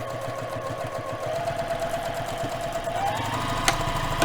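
A domestic sewing machine stitches a bag in white thread on black fabric, a quick steady mechanical whir and needle chatter that runs on without pause, moderately close, no talking.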